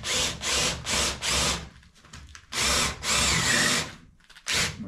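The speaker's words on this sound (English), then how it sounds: "Let's see if we can even drill through this." Cordless power drill boring through a cooktop surface during a tiny home build, a series of loud close whirring bursts with short pauses and a longer sustained run.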